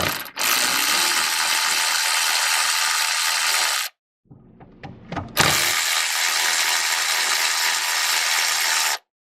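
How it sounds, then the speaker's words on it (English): A power ratchet removes bolts from the V6 engine of a 2010-2017 Equinox. Two long, loud, close runs of rapid ratcheting are separated by a short gap of clanking and handling noise. "now I'm going to continue removing the bolts"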